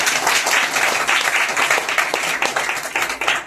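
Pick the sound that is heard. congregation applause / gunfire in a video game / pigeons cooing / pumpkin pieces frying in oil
congregation applause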